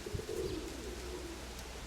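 A pigeon coos softly nearby, a low, drawn-out call rising briefly and then fading under faint outdoor background noise.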